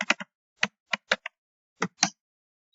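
Keys tapped on a computer keyboard while entering a MySQL command, a quick cluster of clicks followed by separate single presses and short bursts, close and crisp with silence between.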